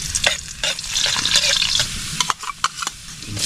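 Garlic and onion sauté in a pan with a bright, close sizzle, stirred briskly so that scraping and clattering come in irregular bursts, with no talking over it.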